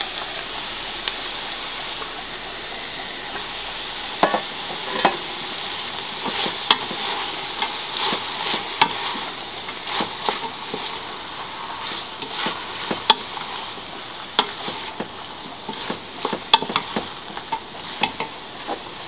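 Rice with chicken and half a head of shredded cabbage stir-fried in a pan, a continuous close sizzle under repeated scraping and tossing clicks, no one speaking.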